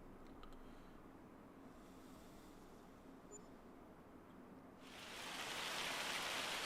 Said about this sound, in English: That sounds like hail.